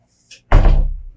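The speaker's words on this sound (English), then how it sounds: "Okay, close door." An indoor door is pushed shut with a single loud, close thud that booms and fades within half a second, preceded by a faint small click.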